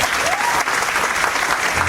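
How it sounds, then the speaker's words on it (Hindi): An audience at a seminar on building a sales team bursts into loud, dense clapping on cue, a steady wash of applause lasting the whole moment. "बजाओ ताली"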